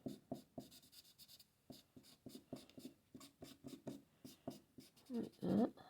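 Large-nib alcohol ink marker colouring over card, a series of soft, close scratchy strokes in an uneven rhythm, with a louder rub near the end and no talking.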